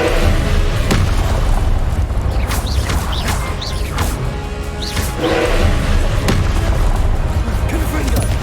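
Repeated Confringo fire spells blasting in the video game Hogwarts Legacy, producing loud booming bursts and crackling impacts amid continuous battle noise, with a voice speaking over the action.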